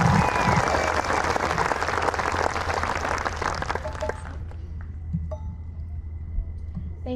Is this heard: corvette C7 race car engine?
no